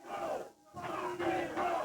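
A Memphis wrestling crowd cheers and chants in rhythmic unison, loud and close, with a brief lull before the chant swells back up.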